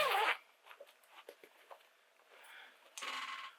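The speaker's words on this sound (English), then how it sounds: "just above it you got a zip" Zipper on a handmade fabric bag, opened in a couple of quick rasping pulls at the start and end with soft handling noises between, quiet and close.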